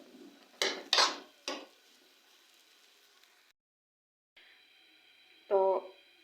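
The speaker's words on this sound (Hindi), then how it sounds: "अब हम इसे डिश आउट करते हैं।" Semolina halwa is spooned out into a serving dish with a few close metallic scrapes and clinks early on, then quiet pauses and one last louder clatter near the end.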